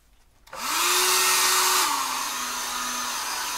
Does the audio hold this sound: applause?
no